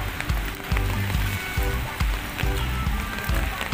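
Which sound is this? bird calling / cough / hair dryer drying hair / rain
rain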